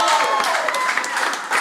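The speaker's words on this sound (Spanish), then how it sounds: "Un aplauso fuerte para Marco" A comedy show audience applauds for Marco, a short burst of clapping that mixes with voices and stays fairly loud.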